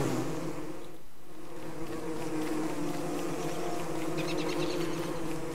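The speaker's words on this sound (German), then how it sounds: "Bei den ganzen Killerbienen." Killer bees in the game Don't Starve, a steady swarming buzz that drones continuously and fairly loudly throughout, with several insects humming together at close range.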